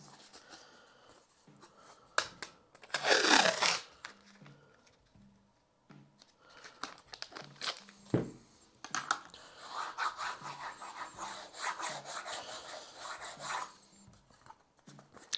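Masking tape being burnished down onto a wooden guitar backplate, with dry scraping and rubbing strokes, a sharp rasping swipe early on, then a longer stretch of steady close-up rubbing.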